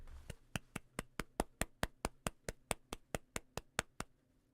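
A steady run of about sixteen sharp hand claps at an even, brisk tempo, close and fairly quiet, alone with no talking.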